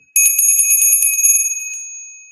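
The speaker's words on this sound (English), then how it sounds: "Let's ring the bell." A small bell is rung rapidly and brightly, a flurry of close, loud metallic strikes over about a second and a half, then a ringing tone that fades away alone.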